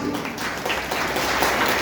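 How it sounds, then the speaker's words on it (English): Audience applause at a school literary declamation competition, a continuous crackle of many people clapping, fairly loud and even across the short stretch with no talk over it. "So a big round of applause for only those who forgot."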